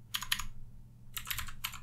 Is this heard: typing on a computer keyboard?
yes